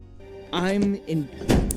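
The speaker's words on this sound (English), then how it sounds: "She slams the door in his face." A door slams shut with a single sharp thunk near the end, following a voice speaking just before it.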